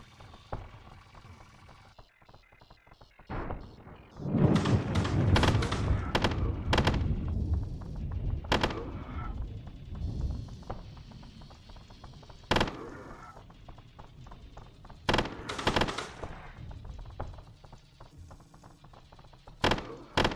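Shotgun blasts in the video game Cruelty Squad, a string of sharp, loud booming shots spaced irregularly, some in quick pairs, over a low background hum.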